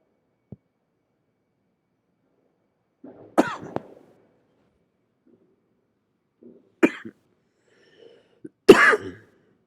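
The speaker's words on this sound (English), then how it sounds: "excuse my coughs" Three separate coughs, one every few seconds, close and sharp in otherwise near silence, with a faint click at the start.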